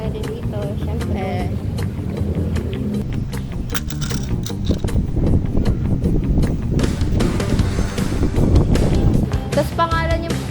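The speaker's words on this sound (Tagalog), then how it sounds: "ang lakas ng hangin" Strong wind buffets the microphone in a constant, heavy rumble, with people talking underneath and occasional clatter.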